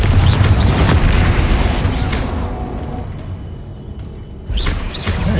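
Repeated Confringo explosion spells from the Hogwarts Legacy video game land as deep, loud booms, a rumbling blast that fades over a few seconds before a fresh explosion bursts in near the end.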